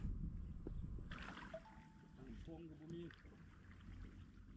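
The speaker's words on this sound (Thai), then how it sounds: "ผมก็พายมาถึงฝั่งเรียบร้อยแล้วนะครับ" A boat is paddled across water toward the shore, with faint, soft splashes and water movement under a quiet outdoor background and a brief voice.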